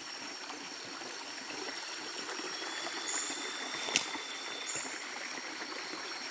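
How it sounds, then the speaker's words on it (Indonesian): A river in Ujung Kulon, Banten, flows with a steady broadband rush of water that stays even and fairly close throughout, with one brief sharp click near the middle. "ini kita menyelusuri sungai Curug yang tadi ya"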